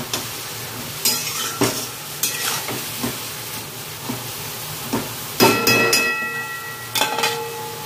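Spice masala with shapla (water lily stems) and chillies being stirred in a pan, loud intermittent scraping and clattering spoon strokes over a soft sizzle, close by.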